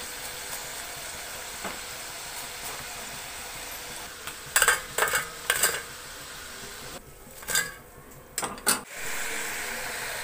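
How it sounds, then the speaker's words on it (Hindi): French fries deep-frying in hot oil give a steady, soft sizzle throughout, with a few louder clinks and scrapes of utensils against the pan along the way. "इसी तरह बाकी के फ्रेंच फ्राइज भी फ्राई कर लेंगे।"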